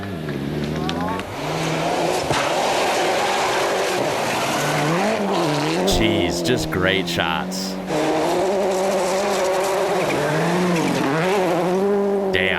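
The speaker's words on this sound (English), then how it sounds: "those Fords sound pretty damn good, actually. So does this Peugeot. Wow, that thing is ripping." WRC rally cars, including Fords and a Peugeot, tear past on the gravel stages of Rally Finland 2000, with roaring, revving engines, sliding tires and gear changes, loud and continuous, while someone talks over it.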